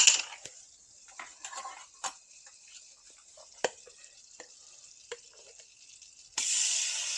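Butter sizzling in a pan, a faint steady crackle with scattered sharp pops and ticks, swelling into a louder, brighter hiss near the end.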